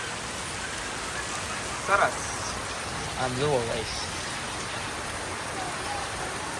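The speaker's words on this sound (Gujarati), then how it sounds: "કેટલો વરસાદ આવે ખરેખર તમને બતાવું" A thick, constant wash of heavy storm rain hisses over everything, while someone speaks in two short bursts close by, his voice rising just above the continuous downpour.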